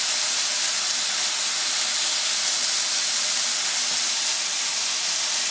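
Bacon fries hard in a pan, a loud, dense crackling hiss that holds steady throughout with no voices over it.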